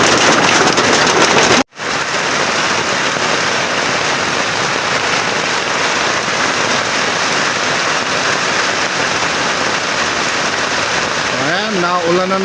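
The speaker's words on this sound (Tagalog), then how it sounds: "Bigla pong umulan." A sudden rain shower pours onto an eggplant garden, a dense, loud, continuous hiss of drops on leaves and surfaces, briefly interrupted near the start, with a voice speaking faintly at the end.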